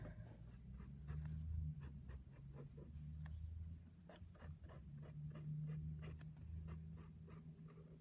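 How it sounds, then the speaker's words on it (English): A pen scratches on paper while inking a drawing of a hand, giving quick, close, soft strokes in an uneven rhythm over a low steady background hum. "I should do an ASMR video with just pen scratching noises."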